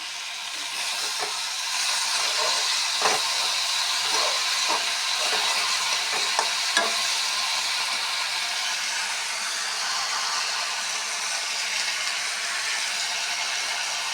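Chopped lai leaves added to a hot pan for a hilsa fish curry give a steady, even hiss, with a few faint clicks near the start.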